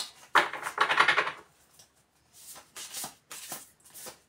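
Large tarot cards are shuffled by hand in two dense riffling bursts, then several shorter, softer shuffles, close and dry with no voice.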